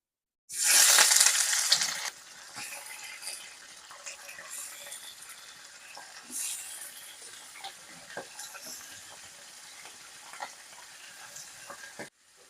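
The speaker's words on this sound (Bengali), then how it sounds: "চিকেনগুলো আমি পাঁচ মিনিট খুব ভালো করে ভেজে নেব" Washed chicken pieces dropped into hot oil in a pan for yogurt chicken, a loud burst of sizzling at first that settles into a steady, softer crackle with occasional pops and stirring scrapes, no voices.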